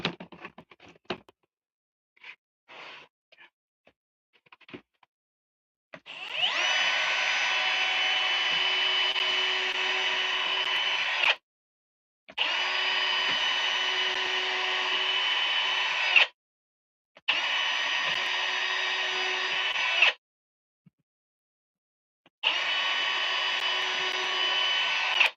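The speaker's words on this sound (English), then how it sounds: "This drill bit is almost going through. It's just getting to the sawdust though." A drill bit bores through wood in four long, steady whirring bursts of several seconds each, separated by short pauses, after a few scattered knocks and taps at the start.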